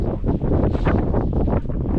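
Strong, cold gusty wind at a wild campsite buffets the microphone with a continuous rough roar that rises and falls in surges.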